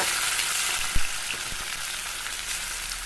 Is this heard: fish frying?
yes